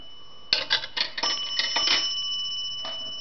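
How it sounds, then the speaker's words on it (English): Bell dings from coins dropped into a 1960s Automatic Electric pay phone: several quick bright chimes in a cluster, then a lingering ring and a final ding, close and clear with no talk. "if you want to put coins in, you'll hear the nickel makes one ding"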